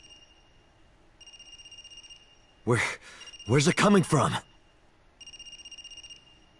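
Tonal electronic phone ring from the AI Somnium Files video game, sounding in repeated bursts of steady high tones before and after a stretch of talk in the middle.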